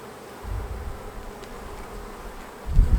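Honeybees drone steadily around a hive frame, a close, continuous low buzz that swells louder as bees move near at the end.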